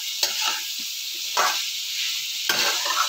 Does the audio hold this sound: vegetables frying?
yes